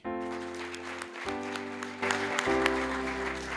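A church congregation claps together in a steady burst of applause, sustained over low, shifting organ-like tones.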